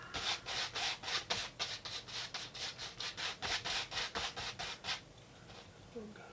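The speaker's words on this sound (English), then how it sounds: "2-inch brush, and just lay in color" A dirty 2-inch paintbrush lays in color with about fifteen quick, even back-and-forth strokes, each a dry scratchy rub of bristles, then stops and leaves faint quiet.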